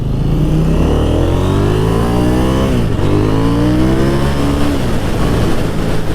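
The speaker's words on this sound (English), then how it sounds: "I went ahead and just punched it first, second, and a little bit of third gear" A 2021 KTM 890 Duke motorcycle is punched through first, second and into third gear. The loud, close engine tone climbs steadily, breaks briefly at a shift near the middle, then climbs again.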